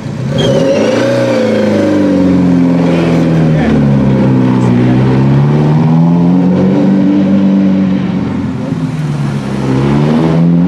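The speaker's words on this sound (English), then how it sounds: "It would be hard to find a car that was louder than Cahill Crowley" Porsche 911 engine at a rally event, revving loudly and close with a sustained, wavering roar that rises and falls continuously for about ten seconds.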